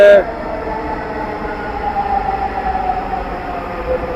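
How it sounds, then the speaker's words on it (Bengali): A Dhaka Metro Rail train pulls into the station platform with a loud, steady rumble and rolling hum that sustains after a brief sharper burst at the start. A faint voice is heard nearby. "ট্রেন এসে পড়ছে।"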